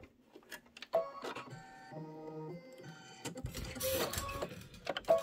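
Embroidery machine stitching the back to the front of a fabric pet pouch: rapid mechanical whirring and ticking, tonal buzzing passes and a busy, clattering stretch, close and moderately loud, with no one talking.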